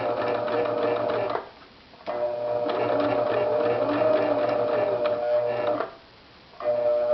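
A sewing machine stitching a messenger bag made from cargo pants, running in two steady bursts of rapid mechanical whirring with short pauses between, close and loud.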